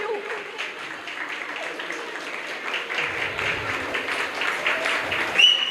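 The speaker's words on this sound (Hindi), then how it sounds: "Parents, keep clapping while the children enter the stage." Parents at a school annual day clap steadily as young children walk onto the stage, a sustained, moderately loud round of applause from the audience with no talking.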